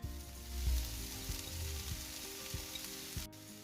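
Onions and mushrooms frying in a pan for samosa filling, a steady soft sizzle with occasional stirring scrapes and knocks, no talking.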